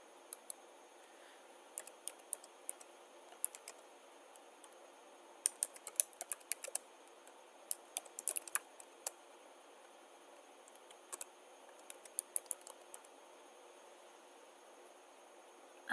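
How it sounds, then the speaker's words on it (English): Computer keyboard typing, faint scattered key clicks in short irregular bursts over a quiet background hiss, alone without talk. "I might just type it."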